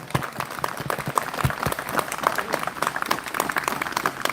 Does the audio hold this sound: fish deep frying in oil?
no